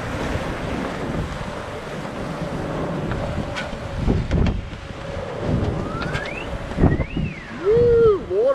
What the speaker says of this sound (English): Woo, water coming over the front.